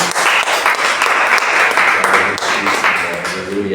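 A church congregation applauding during a worship service: dense, steady clapping for nearly four seconds with voices mixed in over it.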